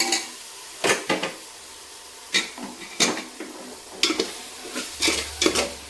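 Homemade garam masala stirred in a frying pan, a spoon scraping and knocking in irregular bursts over a low sizzle, close-up with no talking.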